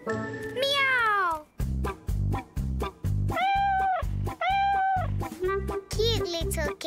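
A cartoon kitty in a kids' animation gives a long sliding meow followed by a couple more sung mews, all over a steady bouncing music beat.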